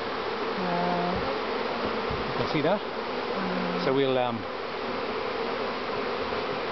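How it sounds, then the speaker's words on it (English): A swarm of wild bees hums steadily inside a box, a continuous buzzing drone with individual bees whining past close by, while a person speaks briefly over it. "And there's the box of bees."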